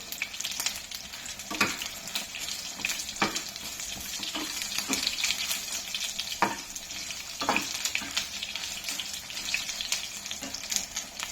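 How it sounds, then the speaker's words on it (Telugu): Ginger pieces frying in a pan while cooking allam pachadi, a steady soft sizzle with occasional louder stirring clicks and scrapes throughout, no talking. "అల్లం ముక్క కూడా ఇందులో వేసేస్తున్నాను. కొద్దిగా వేయించుకుంటే చాలు."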